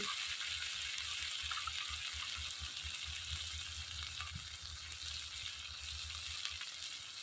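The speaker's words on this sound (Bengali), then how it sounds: "মশলাটা ভালো করে কষিয়ে নেব" Ground spices fry in oil in a pan for a small tengra fish curry, giving a steady, faint sizzle that crackles evenly throughout with no voices.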